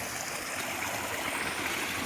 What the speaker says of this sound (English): There's more and more little pools of water all the way down the stream